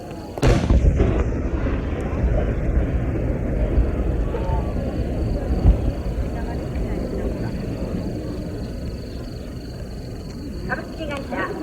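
Fireworks burst in the night sky at the 2024 Yatsushiro national fireworks competition: one sharp, loud boom opens, followed by a long rolling rumble and crackle as the display carries on, with voices faintly present.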